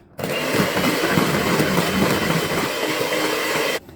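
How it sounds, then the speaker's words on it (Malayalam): Electric hand beater whirring steadily for several seconds as it beats eggs, sugar, milk and oil in a bowl, a loud continuous motor drone with mixing rattle, starting and stopping abruptly with no talking. "രണ്ടും അതിലോട്ട് ഒഴിച്ച് കൊടുത്ത് ഇതൊന്ന് നമുക്ക് ബീറ്റ് ചെയ്തെടുക്കാം"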